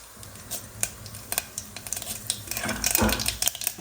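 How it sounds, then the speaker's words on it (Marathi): Mustard seeds tempering in hot oil in a pot make scattered sharp pops and crackles with faint utensil clatter, growing denser and louder toward the end. "मोहरी टाकले"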